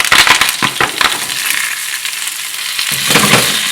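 Spinach wilts in very hot olive oil in a pan: a loud, close sizzle with quick crackling bursts and clattering at the start, then a steadier hiss that swells again near the end, no voices.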